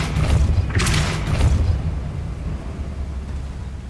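Repulsor spell blast in Hogwarts Legacy lands as a heavy, booming thud with a short burst of crackle, followed by a second thump and a fading low rumble.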